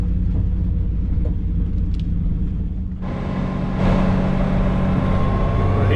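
Farm machinery harvests corn in the field, a loud, steady low engine rumble that swells into a fuller, harsher mechanical roar partway through, close by and without voices.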